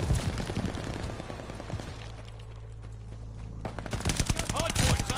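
Rapid bursts of gunfire in a Call of Duty Vanguard hardpoint match, loud and dense at the start and end with a quieter gap in the middle, mixed with other game noise.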